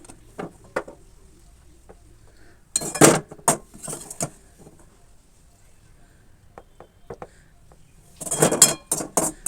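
Dishes and utensils clink sharply while a potato, eggplant and pumpkin curry is served, with brief bursts of clatter near the start, the middle and the end separated by quieter gaps.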